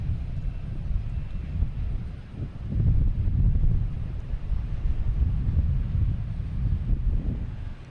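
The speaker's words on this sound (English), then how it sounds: "Next to take off is JetBlue heading to Dallas-Fort Worth, an A320" A JetBlue Airbus A320 taking off at Boston Logan Airport, heard as a distant, low, steady roar that swells slightly and is mixed with wind buffeting the microphone.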